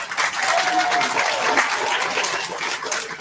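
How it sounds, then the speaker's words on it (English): An audience at a county fair sheep judging show claps for livestock exhibitors holding their lambs, a steady continuous patter of many hands at moderate loudness, with a faint voice briefly under it. "let's give these exhibitors a big round of applause"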